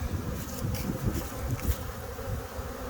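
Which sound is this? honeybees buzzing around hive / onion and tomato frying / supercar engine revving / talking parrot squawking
honeybees buzzing around hive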